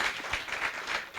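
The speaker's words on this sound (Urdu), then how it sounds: "ان کے لیے بہت تالیاں." Conference audience applauding a credited guest, a steady wash of clapping from many hands, moderately loud and continuous throughout with no voices on top.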